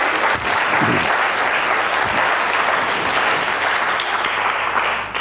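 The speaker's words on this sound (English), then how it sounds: "So big round of applause for the team." An audience at an NHS annual general meeting breaks into sustained, dense applause, steady and full for the whole stretch with no speech over it.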